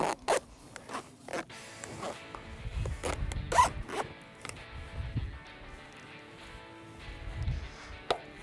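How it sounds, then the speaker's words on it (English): Zipper pulled repeatedly along the window of a soft top on a two-door Jeep Wrangler, coming as a run of short, close ratcheting bursts with brief pauses between them, plus faint handling rustle. "From here, holding the window up, we need to work the zip around."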